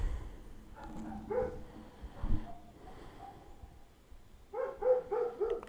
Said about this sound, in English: the dog outside is barking.